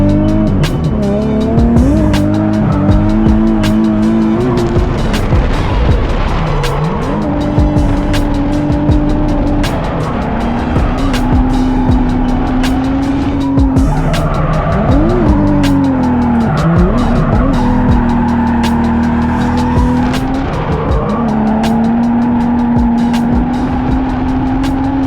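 Loud drift car tires squeal and screech continuously over a roaring, revving engine, rising and falling as the car slides through repeated skids.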